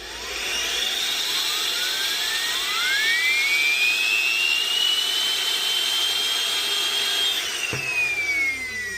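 A 3D-printed Tesla turbine spins up to a loud, sustained high-pitched whine that climbs steadily in pitch, holds, then starts to wind down near the end, heard up close with no talking.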